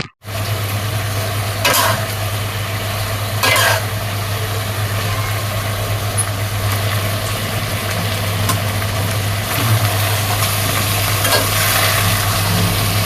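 Vegetables, including pointed gourd and snake gourd, are stirred with katla fish in an oily frying pan, giving a continuous soft sizzle and occasional scraping strokes over a steady low mechanical hum, like a kitchen fan.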